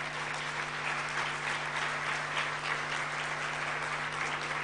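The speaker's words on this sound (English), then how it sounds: "you deserve a round of applause." Audience applauding a team at a live event, a dense, even wash of clapping that holds steady and fairly loud throughout, with no speech over it.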